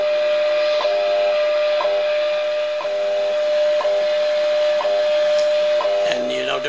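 Collins shortwave receiver tuned to WWV on 10 megahertz, giving a steady hiss of static with a sustained tone and faint regular ticks about once a second, ending in a brief warble of tuning.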